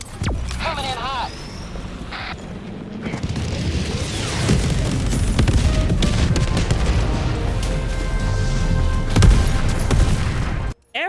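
Eagle Cluster Strike bomblets in Helldivers 2 going off as a dense, continuous rumble of overlapping blasts and pops lasting several seconds, loud and close, with a brief whine near the start.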